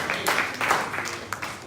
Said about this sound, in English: A round of applause, please, for the organizers.